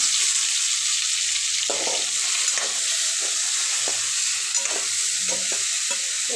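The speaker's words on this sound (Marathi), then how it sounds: "आता त्यात ही भरली वांगी घालू." Stuffed brinjals fry in hot oil with mustard seeds, cumin and spices, a loud steady sizzle broken by repeated scraping and knocking of a spatula as they are turned.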